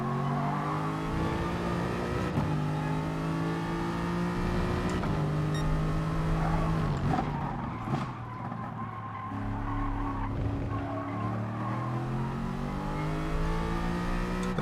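A race car in GT Sport at Tsukuba, its engine droning and shifting pitch through gear changes while the tyres squeal and skid under hard cornering, loud and continuous.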